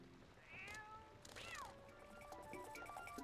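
A cat meows in The Legend of Zelda: Twilight Princess, two clear rising-and-falling cries about a second apart, fairly close, over soft game ambience with a faint tone.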